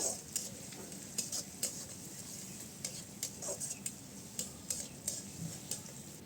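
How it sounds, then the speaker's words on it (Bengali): Onion and green chilli frying in a pan, with a steady sizzle under repeated sharp scrapes and clinks of a spoon stirring against the metal. "এখন পেঁয়াজ কাঁচামরিচটাকে ভালোভাবে নেড়ে চেড়ে ভাজা হইলে"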